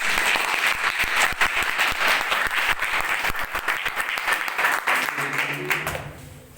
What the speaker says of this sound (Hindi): जोरदार ताली बजाओ आप लोग।